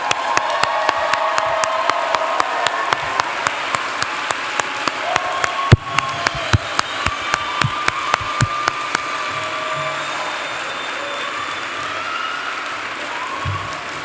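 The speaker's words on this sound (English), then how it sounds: "let's give a round of applause for the class of 2025" Audience applause at a physician assistant program commencement for the graduating class, a sustained clapping wash over a regular series of sharp repeated clicks that stop partway, then fading out.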